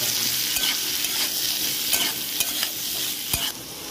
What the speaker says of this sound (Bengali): এবার করলাটা দিয়ে দেবো, আলুটা দিয়ে দেবো, একটু নুন দিয়ে দেবো, দিয়ে ভেজে নেবো হালকা করে।